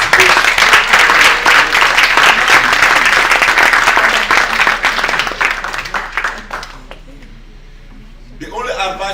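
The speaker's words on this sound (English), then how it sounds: "I want you to give a clap offering to yourself for participation" An audience at a psychology and team-practice talk claps for itself in a loud, dense burst with voices mixed in. The clapping thins and fades after about six seconds, then a short noisy burst returns near the end.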